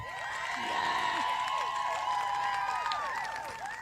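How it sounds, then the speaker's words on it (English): Applause from a live awards-show audience, a steady broad wash of many hands clapping with some cheering mixed in, sustained and fairly loud throughout. "just give a huge round of applause for our live audience"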